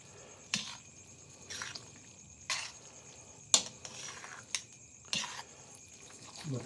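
Tomato garlic spaghetti with chopped basil being mixed in a pan, wet squishing and clinking stirs arriving in irregular bursts with quiet gaps between them, close up.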